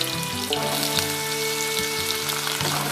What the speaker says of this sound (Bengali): প্রথমে আমি পটলগুলোকে শুধু নুন দেব না শুধু ভেজে নেব